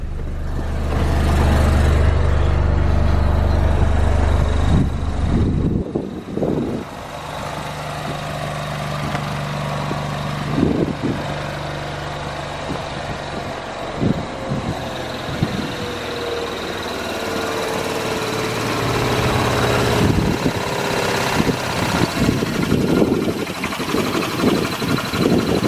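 A Toyota 2JZ engine swapped into a Mazda RX-8, idling with a steady low rumble that is loudest at first, followed by scattered clunks and shifting mechanical noise.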